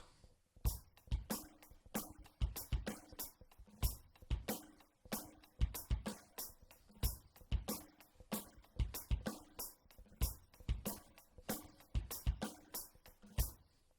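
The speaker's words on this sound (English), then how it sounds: "how the bass drum, snare drum parts work in each measure with that simple eighth note pattern" A drum kit plays a steady groove: crisp hi-hat eighth notes over thumping kick and snappy snare hits, repeating evenly, with no voices.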